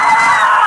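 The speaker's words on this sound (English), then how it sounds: "I hope you like screaming and yelling" Continuous, loud, high-pitched screaming from several people in a found footage horror film, sustained and frantic before cutting off abruptly at the end.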